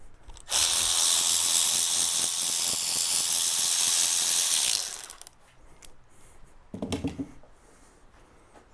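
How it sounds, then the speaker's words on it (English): A ratchet tool loosens the spark plugs on an L83 engine with a loud, continuous whirring rattle for about four seconds, followed by a brief metallic clunk and handling noise. "let's go ahead and jerk the spark plugs out"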